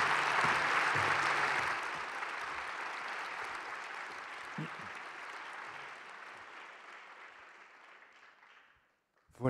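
A conference audience applauds speakers as they return to their seats, loud dense clapping at first that gradually thins and fades away, ending in near silence before a brief noise at the close.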